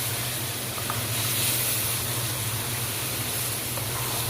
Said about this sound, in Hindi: ये चले गए जी कोफ्ते, ये चले गए जी कोफ्ते। और मैंने करना है इसको फ्राई,